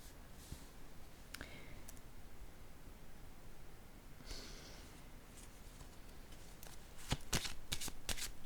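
Tarot cards shuffled by hand, a steady soft riffling rustle through most of the stretch, then a quick run of crisp card snaps and slaps near the end, close and quiet.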